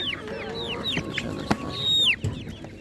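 Several chickens clucking and squawking at a livestock market, with sharp calls overlapping against a steady background of market noise.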